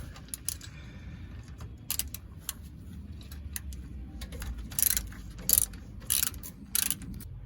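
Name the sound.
ratchet undoing 13 mm bolts on Ford 8.8 axle cover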